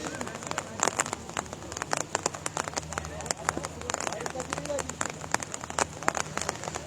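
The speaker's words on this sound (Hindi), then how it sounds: "बारिश यहाँ पर जोर पकड़ चुकी है।" Heavy rain falling at a cricket ground, a dense crackling patter on surfaces that continues throughout, with faint commentary voices underneath.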